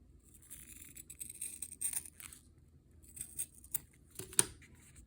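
Scissors snip through cardboard for a gingerbread-style house, giving a few quiet, close crunching cuts and scrapes spaced apart over a few seconds.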